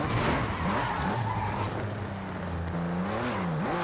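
An Audi RS4 Avant skids through a curve in Forza Horizon 5, its engine droning loudly while the tires squeal in wavering, rising and falling tones.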